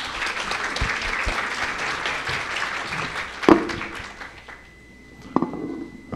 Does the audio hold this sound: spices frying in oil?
no